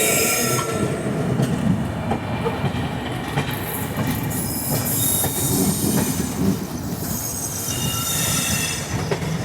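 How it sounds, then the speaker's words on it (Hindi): Panchavati Express, the Mumbai–Manmad train, rolls into Manmad Junction with steady loud rumble, rail clatter and high wheel squeal heard from aboard a moving train, no voices. "मनमाड़ जंक्शन में एंटर कर रही है पंचवटी एक्सप्रेस।"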